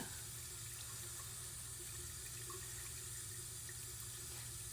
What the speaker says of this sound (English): have a little water running.